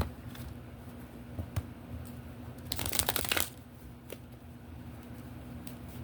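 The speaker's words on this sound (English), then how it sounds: "One more shuffle." Steady room hum with a brief riffling burst of tarot cards being shuffled in the middle, plus a few light taps and clicks.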